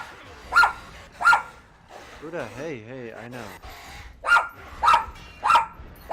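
Several dogs bark in loud, sharp bursts, a pair near the start and three more toward the end, with someone talking between them over a low background hum.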